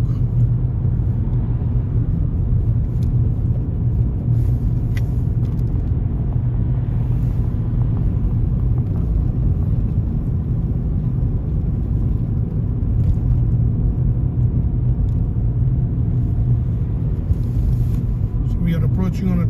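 A car is driven on a driving-test route through Cheetham Hill along the A6, its engine producing a steady, low rumble that continues unbroken for nearly twenty seconds with little change in level.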